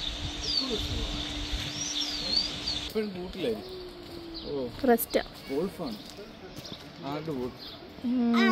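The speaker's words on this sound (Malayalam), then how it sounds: "ചുറ്റിനും കിളികളുടെ ശബ്ദമായിരിക്കും." Birds call around a zoo walkway in Riyadh, Saudi Arabia, including a pigeon's soft cooing; the calls sit faint and steady in the background, then a person talks over them for the second half.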